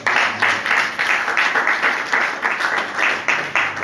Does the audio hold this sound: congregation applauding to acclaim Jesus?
yes